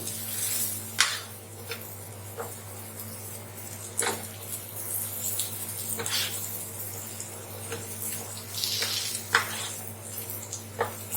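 A capsicum omelette warms in a pan with a soft, continuous sizzle, broken by occasional scraping and stirring sounds, all over a steady low hum.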